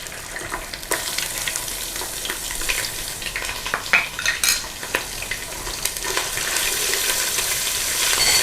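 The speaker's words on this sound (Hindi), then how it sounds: "इसका कच्चापन निकलने तक 1-2 मिनट इसे फ्राई करेंगे" Steady crackling sizzle of ginger garlic paste frying in a hot pan, with occasional scraping and stirring clatter, close up and fairly loud, no voices.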